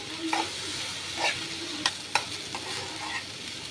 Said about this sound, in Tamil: இப்போ வடித்த சாதத்தை ஆட் பண்ணிக்கோங்க